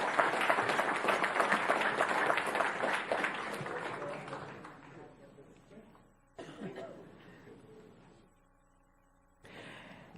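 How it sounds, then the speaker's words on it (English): An audience at an education foundation recognition event in Palm Beach County breaks into dense, steady clapping that fades out after several seconds, leaving a quieter room with a few scattered sounds and coughs. "Let's give them a big round of applause."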